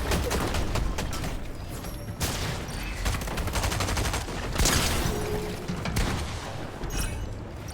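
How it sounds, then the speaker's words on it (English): Rapid gunfire in the Fortnite video game, a weapon sounding like a pump shotgun: dense bursts of loud shots and mechanical clacks repeating throughout, with no talking. "I just love the sound of this gun because it sounds like a pump shotgun."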